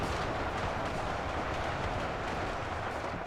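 Dense, continuous battle gunfire from a large simulated fight between armored space soldiers and stormtrooper troops, a steady rumbling barrage of overlapping shots with no clear gaps, heard at a distance.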